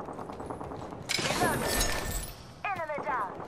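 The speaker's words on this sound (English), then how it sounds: "I'm getting shot at." Gunfire in a video game sounds as bursts of shots aimed at the player, mixed with game effects and a player voice talking over them.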